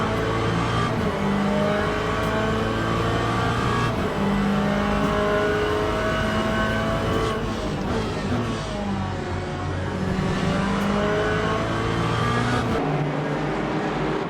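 Race cars, a Ford Mustang and a Corvette, roar through a Le Mans Ultimate video game race, engines droning and revving steadily with gear shifts and close passing, loud and continuous throughout.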